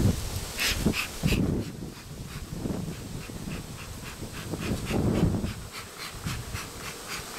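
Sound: honey bees buzzing at hive entrance

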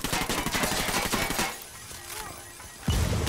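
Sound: grenade explosion in video game Ghost Recon Wildlands

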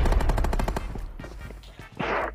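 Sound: gunfire in a shooter video game

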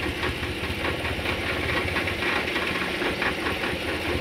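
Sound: Chevy Silverado engine idling with misfire

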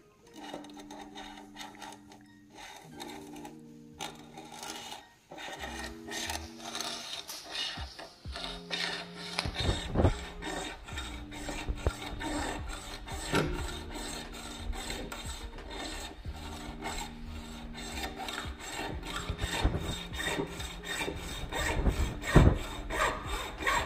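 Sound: cutting a Sizzix Sidekick frame in half

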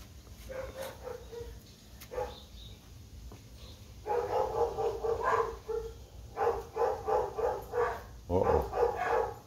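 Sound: dogs barking at passers-by

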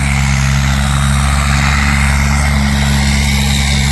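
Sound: tractor approaching in a tractor pulling competition

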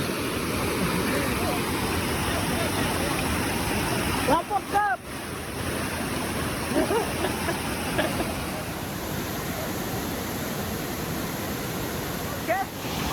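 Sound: village stream waterfall

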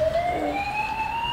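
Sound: fire engine siren sound from toy steering wheel

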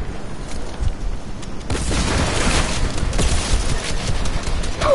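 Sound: RPG rocket fire and explosion in the video game Fortnite

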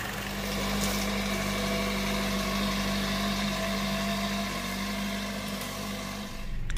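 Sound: Chevy Cruze 1.4 engine idling

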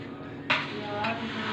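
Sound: paneer being added and stirred in a frying pan

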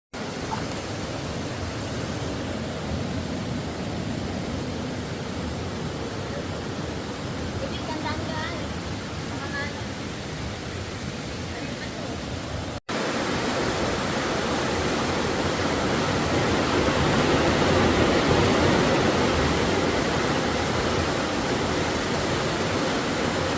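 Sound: river flowing

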